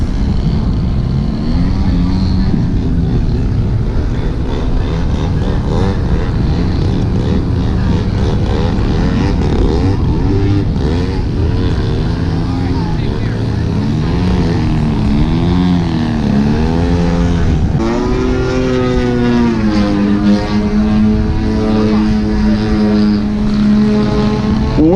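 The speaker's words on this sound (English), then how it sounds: "We're talking about the strength of these airplanes." Extreme Flight 3D aerobatic model airplanes buzz continuously at an outdoor flying event, their propellers whining up and down in pitch as the planes maneuver, loud and sustained throughout.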